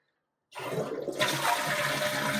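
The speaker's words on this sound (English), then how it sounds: "Now when I flush the toilet" A household toilet flushes with its water supply shut off, a sudden loud rush of draining water that keeps roaring steadily, close by with no talk.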